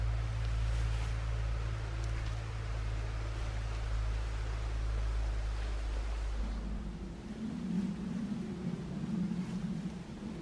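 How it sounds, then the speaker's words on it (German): A farm tractor drives past an outdoor camp in the countryside, its low engine drone steady and fairly close for several seconds before it fades and gives way to quieter rustling. "Jetzt kommt gerade ein Trecker."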